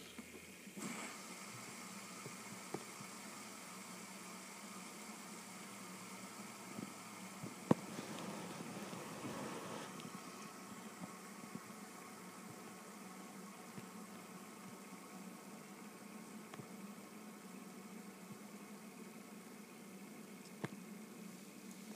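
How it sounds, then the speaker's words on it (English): Green and red fidget spinners spinning side by side in a contest, a faint steady whirring hum that holds throughout with a few light clicks. "let's do a spin competition. Let's see if the green one can spin longer or the red one"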